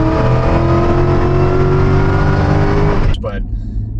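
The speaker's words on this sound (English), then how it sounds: "just the whine pulls all the way through, and you just kind of hear the gear change in between" A supercharged Cadillac CTS-V with a Roots blower runs hard, its steady whine rising through the pull before an abrupt dual-clutch gear change cuts the note, then the engine carries on at lower pitch; loud and close.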